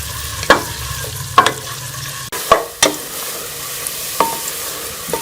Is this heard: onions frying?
yes